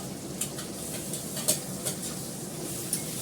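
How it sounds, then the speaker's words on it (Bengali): Potatoes dropped into hot oil tempered with black cumin seeds, crackling and sizzling steadily with a few sharp spatula taps against the pan. "কালো জিরে ফোড়ন দিলাম, আলুটা দিয়ে দিলাম, রসুনটা দেবো।"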